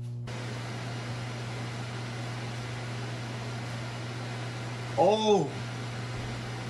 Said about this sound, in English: Microwave for 90 seconds.